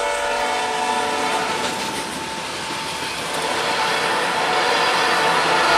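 A long northbound ethanol freight train rolls past a crossing on the Cincinnati rails, its horn blaring over the steady clatter and rumble of the railcars, loud and close.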